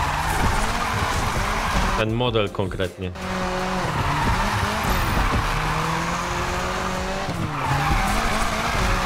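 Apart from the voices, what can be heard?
car skidding while drifting in NFS Unbound video game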